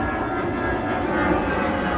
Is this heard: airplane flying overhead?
yes